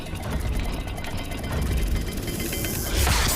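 A continuous mechanical ratcheting and clicking of a dial mechanism being turned in Hogwarts Legacy, gears engaging, loud and steady throughout, growing a bit harsher near the end.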